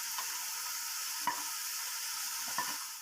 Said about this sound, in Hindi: कीमे की हमने यहाँ पर अच्छी तरीके से भुनाई कर ली है।